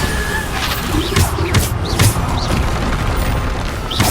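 Bombarda spell blast in Hogwarts Legacy, a sharp booming impact that bursts up out of constant, dense battle noise, with several other crackling spell hits nearby.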